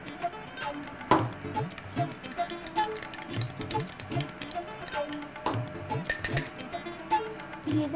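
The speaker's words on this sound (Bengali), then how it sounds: "ডিমটাকে ফেটিয়ে দিতে হবে" Eggs being beaten with a pinch of salt in a bowl, giving quick, light clinking taps of a utensil against the bowl in uneven bursts, with faint background sounds.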